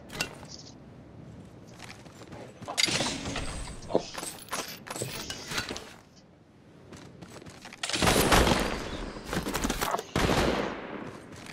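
Gunfire in the mobile game Apex Legends Mobile comes in several bursts of rapid shots with metallic clinks and mechanical clatter between them, separated by quieter gaps.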